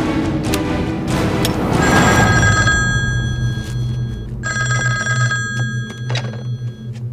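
A telephone bell rings in two loud, near bursts separated by a pause, with a dull thunk and low rumble beneath, no talk.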